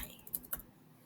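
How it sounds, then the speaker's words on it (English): Typing on a computer keyboard produces a few quick, faint key clicks in a short burst. "I'm going to type in the word Kami"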